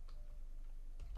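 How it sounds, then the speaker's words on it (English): Keystrokes on a computer keyboard while entering an equation into software, a few soft clicks spread across a short moment with a denser burst near the end, close and quiet. "we'll just type that in"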